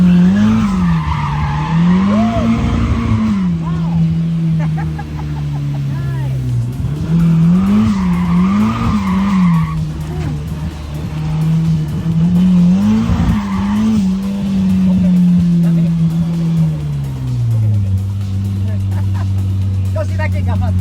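A car spinning donut drifts squeals its tires in repeated wavering skids over a steady engine drone, loud and close, while people talk throughout.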